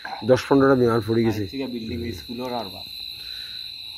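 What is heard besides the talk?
crickets chirping at night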